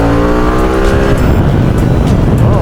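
A 2023 Harley-Davidson motorcycle at Ohio Bike Week accelerates hard, its engine note climbing quickly and then breaking into a loud, close, rushing roar.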